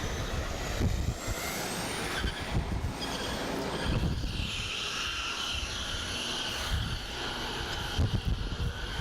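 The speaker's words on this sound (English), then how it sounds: "That was a bus being driven in Surrey." A bus driven along a road in Surrey, its engine grinding and groaning at moderate volume with thumping knocks and a high whine drifting through, unusually rough and continuous throughout, with no talking.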